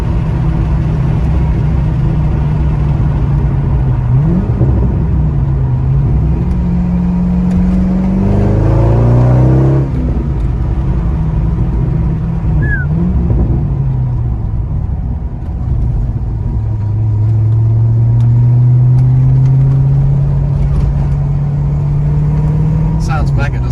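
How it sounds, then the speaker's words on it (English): A Corvette C5 with a manual gearbox and LS1 V8 revs up and down several times, loud and close, with a steady idle rumble between the rises. "I love the sound of the V8."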